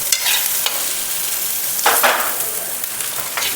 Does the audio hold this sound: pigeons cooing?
no